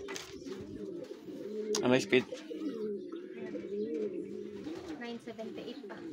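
Racing pigeons coo in low burbling phrases at the loft during a derby race, close and continuous, while people talk over them.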